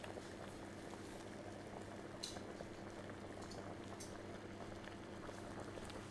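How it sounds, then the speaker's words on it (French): Clementines boil in a pan of water on the stove, a continuous close bubbling simmer with occasional small pops and splashes, quiet and steady throughout. "Je laisse donc bouillir pendant quelques secondes, que l'ébullition soit vraiment bien franche."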